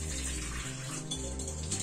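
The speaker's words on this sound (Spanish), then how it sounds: "Le voy a echar un poco de agua templada," Lukewarm tap water runs steadily into a bowl for pizza dough, a continuous close splashing rush that shifts slightly in pitch partway through, with no talking.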